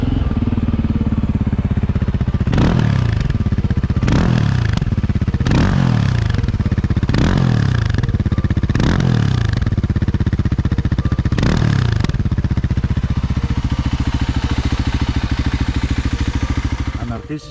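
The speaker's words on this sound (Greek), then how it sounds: "το σύστημα εξαγωγής καυσαερίων, η εξάτμιση δηλαδή, έχει ένα δυνατό μπάσο ήχο" Voge 300 Rally motorcycle engine with a loud, bass-heavy exhaust, revved hard in a series of sharp throttle blips roughly every second and a half over a steady close rumble, then settling to a lower idle near the end.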